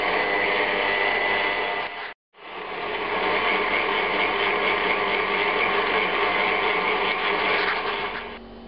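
A stand mixer runs steadily on pizza dough, a loud continuous motor whir with a brief cut-off near the start before it spins back up and carries on evenly.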